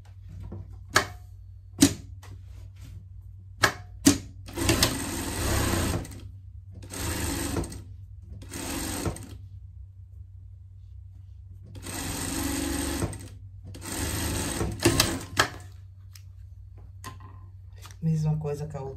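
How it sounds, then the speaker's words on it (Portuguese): An electric sewing machine runs a seam through denim pieces of a pet vest, several bursts of rapid stitching separated by pauses and sharp clicks, close and clear, with a low steady hum throughout. "Vamos passar uma costura aqui"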